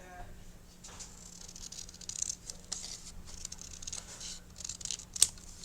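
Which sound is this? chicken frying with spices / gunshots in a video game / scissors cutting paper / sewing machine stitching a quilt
scissors cutting paper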